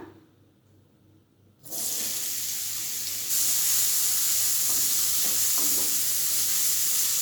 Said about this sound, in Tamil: முள்ளங்கியை நல்லா பச்சை வாசனை போகிற வரைக்கும் நல்லா வதக்கிக்கோங்க.